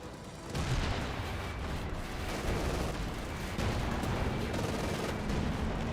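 Distant artillery barrage shelling in the strategy game Company of Heroes 2, a steady rumble of thuds and crackling impacts, fairly faint and continuous with no voices.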